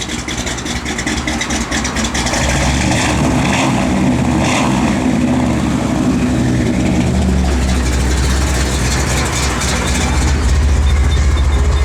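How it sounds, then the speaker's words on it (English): A 1957 Chevrolet Bel Air's 350 V8 engine idles steadily and loudly, a low continuous rumble with a faint higher whine, close by and with no one talking. "Little cam to that 350. I think it's 350, 300 horse engine."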